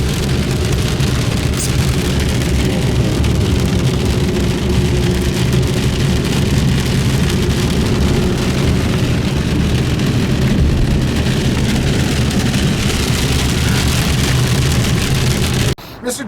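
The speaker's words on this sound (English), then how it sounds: "Here in the rain." Steady rain falling outdoors around a Chevy Colorado ZR2 Bison pickup, a dense even hiss and patter that holds loud and unbroken throughout.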